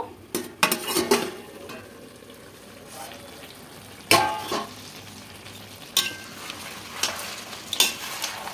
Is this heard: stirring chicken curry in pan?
yes